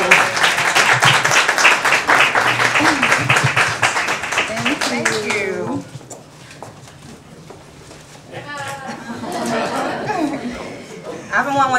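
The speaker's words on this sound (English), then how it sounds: "Can we give another warm applause to Shavana?" An audience applauds loudly with dense, sustained clapping for about five seconds, then the clapping fades and talk and chatter from the room take over.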